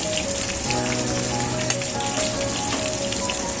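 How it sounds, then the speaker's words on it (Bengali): Potato pieces sizzle in hot oil in a pan used for fish curry, giving a steady, dense crackle that runs unbroken throughout at close range, with a faint tonal hum underneath. "মাছের ঝোলে এবার আলুটা ভাজছি"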